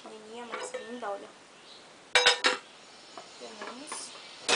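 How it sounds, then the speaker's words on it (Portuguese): A small nonstick pan clinks and knocks as it is handled, giving a few sharp metallic taps in two brief clusters while someone talks over and between them. "Ganhamos também essa panelinha pequena, antiaderente"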